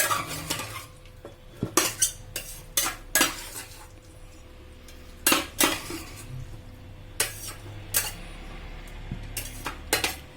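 Chicken manchurian being stirred in a pan, with sharp metal utensil clanks and scrapes in irregular bursts over a faint background sizzle, close by and with no voices.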